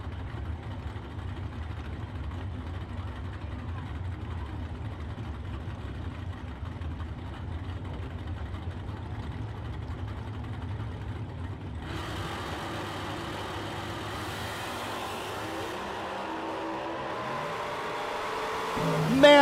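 A small-block Chevrolet-powered 1981 Malibu and its opponent sit at a drag strip, with a steady low engine drone. Partway through, a louder, broader engine roar rises and builds toward the end.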